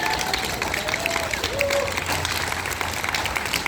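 Applause from an outdoor Palestine protest crowd in Auckland, a steady dense wash of clapping at moderate distance with a few faint whistle-like tones over it and no clear speech.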